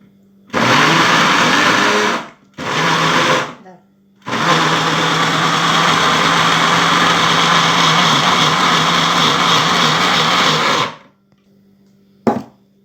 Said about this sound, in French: Ensuite, on va mixer tous les légumes.